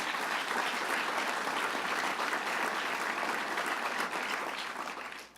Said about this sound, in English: Let's give the Dean a round of applause